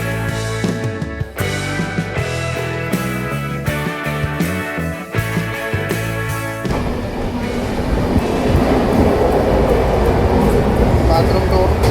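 Inside a moving passenger train from Kochi to Bangalore, a loud continuous rumble and rattle plays throughout, with tonal, voice-like sounds over it during the first half.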